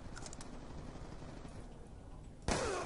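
Gunshots from a weapon in the first-person shooter Call of Duty Black Ops 2, a few quieter shots and then one loud, sharp blast near the end over steady game background noise.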